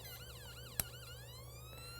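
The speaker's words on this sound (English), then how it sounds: "it changed to my wail tone" An nERGY electronic emergency siren switched to its wail tone, a long rising and falling sweep sounding loud and steady, with a brief sharp click partway through.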